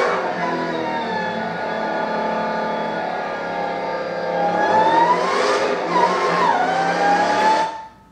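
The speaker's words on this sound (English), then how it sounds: "There's a supercharger in that. That is a Dodge Hellcat." A Dodge Hellcat Redeye's supercharged engine revs loudly and close by, with a sustained roar that climbs in pitch and swells near the end before cutting off.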